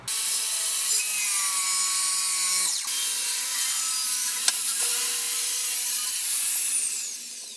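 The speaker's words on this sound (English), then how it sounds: "I think I might have to actually trim this board shorter than what it is" A hand saw cuts back and forth through a wooden board to trim it shorter for a table saw outfeed ramp, a loud, close, continuous rasping scrape with steady strokes and no talk.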